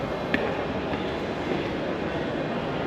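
Train rumbling steadily at Glasgow Queen Street station, a broad continuous rolling noise with a faint click or two, close and fairly loud throughout.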